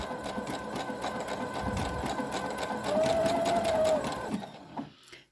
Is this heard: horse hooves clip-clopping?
no